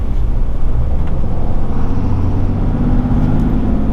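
A RAM High Output Cummins diesel pickup truck engine pulls hard under acceleration, a loud, steady low rumble close by with rising drive and no talking.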